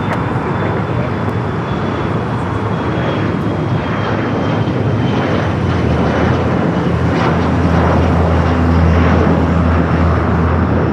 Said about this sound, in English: This is United flying coming in from Austin, Texas, flight 236, 23-year-old A320.